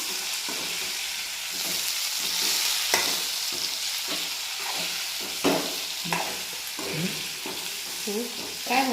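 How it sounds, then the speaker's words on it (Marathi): Stuffed bitter gourd sautés in a pan, a soft steady sizzle broken by repeated scraping stirs, with someone talking over it. "छान याला परतू द्यायचं."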